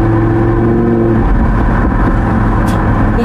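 2017 Audi R8 Spyder V10 convertible, 540 hp, engine and exhaust rumbling loudly and steadily from close range as the car slows, a deep continuous drone with no talk.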